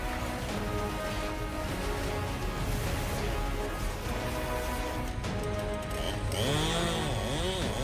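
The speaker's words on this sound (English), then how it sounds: "Just a compact chainsaw like this can bring down massive ancient trees." A compact chainsaw roars continuously, buzzing loud and close as it bites through a large tree, its pitch dipping and rising under load near the end.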